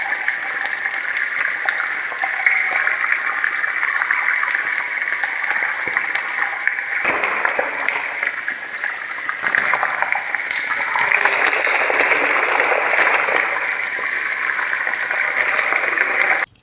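Pork kidneys and onion sizzle in a frying pan, a loud, continuous crackling hiss heard up close for the whole stretch with no talking.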